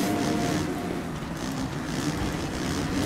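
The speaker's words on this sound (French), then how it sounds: "On entend les motos qui se frottent les unes contre les autres." Motocross bikes in the MXGP3 video game at the Losail GP grinding and rubbing against each other in a pack, a steady continuous engine drone with scraping texture, loud and close throughout.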